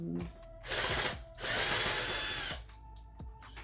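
A power drill whirs in short bursts while backing Phillips screws out of the AC unit panel in a 2009–2012 Ram's dashboard, close and fairly quiet. Brief clicks and handling noises fall between the runs.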